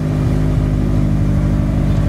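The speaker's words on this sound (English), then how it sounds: "Right now it's idling at 1700, like 1700 RPM." A car engine idles high at about 1700 RPM, a steady low hum with a faint rhythmic pulse. It holds even and continuous, close and fairly loud, and no one speaks.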